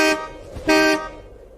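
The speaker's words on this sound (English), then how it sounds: "Guess I'll honk and let them know I'm here." Two short car horn honks in a radio drama, set at dawn at a seemingly deserted place, each blast a bright steady toot with a gap between them, heard alone without voices.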